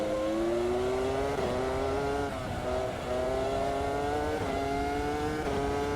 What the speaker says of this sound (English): it sounds so good, doesn't it? That screaming V10.